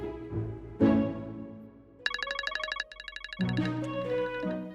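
A phone rings with a bright electronic melodic tone that plays for over a second in the middle of the clip, between stretches of soft background music.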